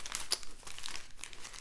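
A small fabric-and-plastic pouch handled up close, giving a run of quick, crisp crinkles and rustles with a sharper snap near the start, fairly quiet and without talk.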